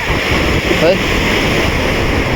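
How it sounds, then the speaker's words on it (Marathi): Ocean waves roll onto the shore in light rain, a continuous loud wash of surf blended with heavy wind buffeting the microphone, and a voice is briefly heard over it. "लाटा बघा किती भारी वाटायला लागले बघा ही आली बघा लाट"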